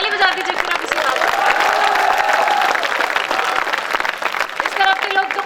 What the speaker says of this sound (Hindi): चलिए ताली बजा दीजिए